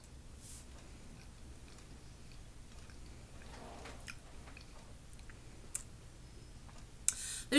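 Someone chews the cream filling of an Oreo Cinnamon Bun cookie close to the mic, with soft, quiet mouth sounds and faint scattered clicks and no talking.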